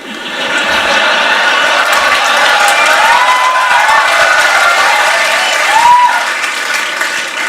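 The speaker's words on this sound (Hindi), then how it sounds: "भाई तुम जितनी मर्जी ताली बजा लो" A large audience clapping and cheering at a lecture-style interview with Ashneer Grover at LPU, a loud sustained wash of applause with scattered whoops throughout.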